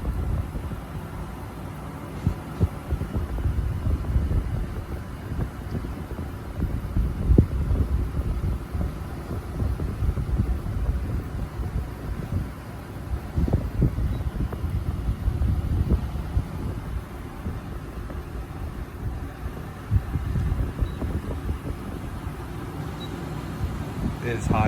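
An LG 11,000 BTU air conditioner fan on high speed, a steady broadband whoosh of blowing air that holds at an even level throughout, with occasional faint voices or handling noises over it.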